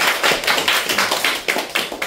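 Church congregation applauding during a Sunday worship service, a steady patter of many hands clapping together at close range, fairly loud with no talk over it.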